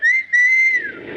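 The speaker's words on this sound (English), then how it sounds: "if you want a taxi, just whistle" Someone whistles to hail a taxi in a 1947 radio comedy broadcast: one sharp, loud, high whistle with a brief break, then a long, sustained note that slides down and fades into soft background noise.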